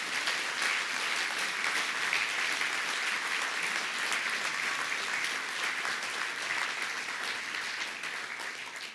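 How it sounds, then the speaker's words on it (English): Sustained applause from a large audience at the opening of the Freedom Awards at the Wroclaw Global Forum 2011, honoring the award recipients; dense, steady clapping fills the hall throughout, tapering slightly near the end. "let us give applause for the honorees of the Freedom Awards"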